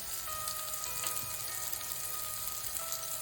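Paneer tikka frying on a tawa over a low flame, giving a steady, even sizzle and crackle of oil that holds at a constant level throughout, with no voices.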